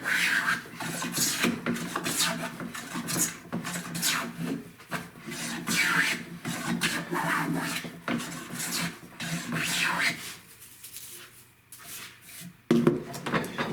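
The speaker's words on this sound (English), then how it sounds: "I'm planing directly into opposing grain." A Lie-Nielsen hand plane cutting wood against the grain in a vise, repeated rasping strokes in a steady back-and-forth rhythm, close and fairly loud, with a brief pause near the end.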